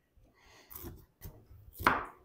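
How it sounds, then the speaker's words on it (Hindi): A knife cuts a petha pumpkin (ash gourd) in half for halwa, giving three firm chopping thuds through the tough flesh over about two seconds, the last stroke the heaviest, close by with no talking. "इसको हमने सेंटर से इस तरीके से काट लेना है, जरा जोर लगा के काटना पड़ेगा।"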